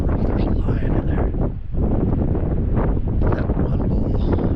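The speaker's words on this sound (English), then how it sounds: "It's so windy." Strong wind buffets a microphone outdoors where bull elk gather during shed season, a loud, continuous low rumble with gusty surges and a brief lull partway through.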